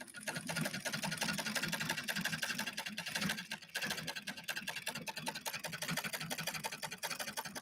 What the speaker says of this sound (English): Still trying to master the treadling.